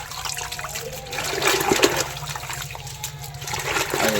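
Water runs and trickles steadily from a tap during washing at an outdoor tap, with splashes and dribbles rising and falling close by, faint background sounds and no clear talk.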